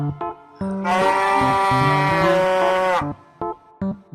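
A cow lets out one long, sustained moo lasting about two seconds, loud and close, with background music before and after it.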